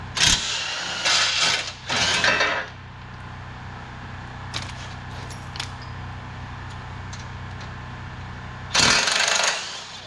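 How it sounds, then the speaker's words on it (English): Wrench loosening skid bolts on a snowmobile Timbersled conversion kit, heard as a few sharp bursts of metallic ratcheting, then quiet clicks and taps, then another loud burst near the end, with no talking. "loosen this one up. Move our last skid bolt."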